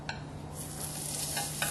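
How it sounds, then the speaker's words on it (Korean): Meat and shiitake mushrooms stir-fried in a pan for Korean bibim guksu: a continuous close sizzle and hiss with a few light scrapes of the utensil, steady throughout. "표고버섯을 볶아주세요."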